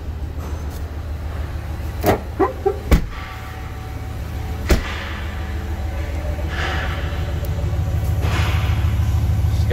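A 2016 pickup truck with a Hemi V8 idles in a steady low rumble that slowly builds, broken by a few sharp clicks and knocks near the start; no one speaks.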